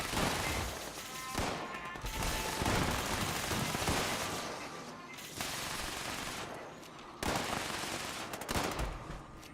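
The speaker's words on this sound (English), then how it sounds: "I keep hearing like shooting." Dense gunfire in the online game Fallout 76: sustained rapid bursts like machine-gun and fusillade fire, loud and continuous, with brief drops in intensity and no talk over it.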